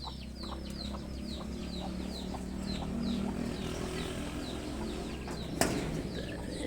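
Pigeons, including young birds, coo and murmur together in a loft as a soft, continuous backdrop, with one brief sharp clack near the end.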